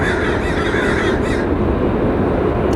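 Crows caw near an airport runway amid a steady roar of jet and ground noise, their harsh calls brief and partly buried under the broadband rumble.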